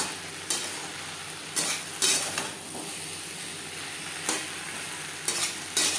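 Boiled potato chunks are stirred into eggplant in a sizzling pan for a hilsa curry with mustard and poppy seeds; a spatula scrapes in a few sharp bursts over a continuous low frying hiss.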